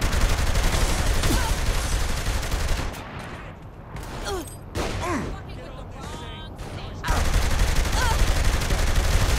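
Saints Row 3 gunfight, dense bursts of automatic gunfire and explosions filling the scene, loud and continuous with a quieter stretch in the middle before the shooting swells again.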